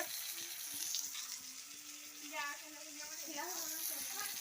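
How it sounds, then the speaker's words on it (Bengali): Flat beans (sim) frying in a pan make a soft, continuous sizzle with faint stirring noises. A voice talks over the frying for much of the time. "মা এই যে আমি এখন সিম ভাজছি"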